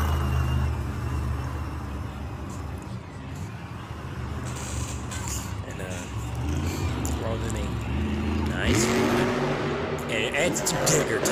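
A monster truck engine at a 2023 Monster Jam event roars continuously through a lap, its rumble rising and falling under steady commentary.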